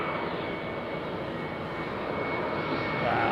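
A Transavia airplane's engines produce a dense, steady roar at constant loudness, growing a touch stronger toward the end, with no talk.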